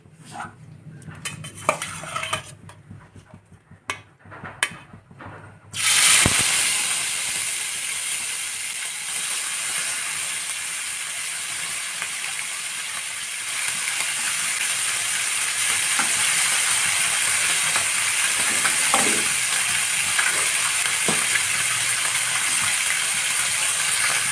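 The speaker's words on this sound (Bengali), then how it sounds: "তেলটা কিন্তু আমার বেশ ভালো রকমের গরম হয়ে গিয়েছে তো চলো এবার মাছগুলো ছেড়ে দিই" Small fish dropped into hot oil burst into a loud, steady sizzle after a few clinks and stirring knocks, the frying roar continuing with occasional utensil scrapes.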